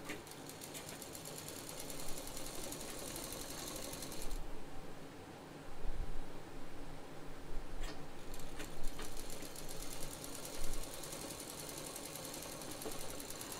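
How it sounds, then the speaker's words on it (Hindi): A sewing machine stitches a zip onto cloth for a handbag, running in a fast, even mechanical rattle. It stops briefly midway amid handling sounds, then resumes with short bursts. "जो जिप है उसको बराबर रख के सिल दीजिए"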